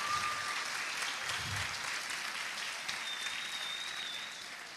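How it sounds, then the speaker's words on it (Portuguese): A church congregation breaks into strong applause, a dense, even wash of clapping that holds steady and fades slightly toward the end. "Dê uma forte salva de palmas para Jesus"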